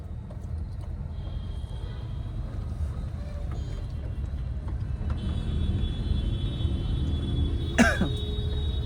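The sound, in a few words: car driving in night traffic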